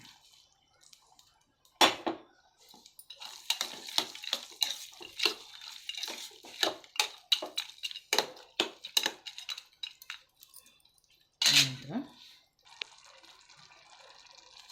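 Fried raisins and cashews tip into cooked rice sweetened with jaggery, a close series of soft scraping stirs and clinks from a utensil against the pot, with two sharper knocks, no talk.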